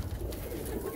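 Soft pigeon cooing murmurs close by, low and throaty, from pigeons on a rooftop in Lahore, with faint background noise and no talking.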